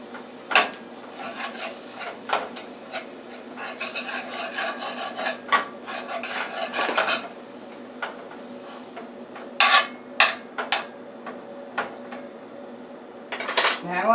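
Spoon scraping and clinking against a pan while stirring sausage with margarine and garlic, irregular metallic taps and rubbing strokes, close and alone.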